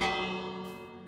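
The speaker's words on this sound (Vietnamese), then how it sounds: "Mình gõ chuông để mấy anh dân làng chạy đi á" One strike of the village bell in Minecraft, a bright metallic clang that rings out with a long, slowly fading harmonic tail, heard alone.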